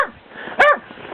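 A sick, skinny dog that still runs with energy outdoors gives a single sharp bark, loud and close, between stretches of quiet background.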